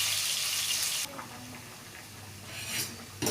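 Onion frying in a pan, with a bright sizzle at first that drops to quieter frying, broken by scraping stirs and light clinks of the utensil, then flaring loud again at the end.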